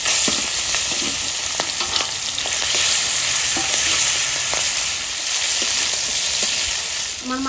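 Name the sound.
prawns frying in oil in a kadai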